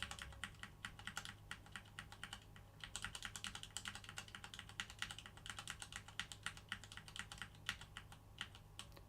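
A computer keyboard is tapped rapidly and steadily over a constant low hum, quiet and close, with no voices.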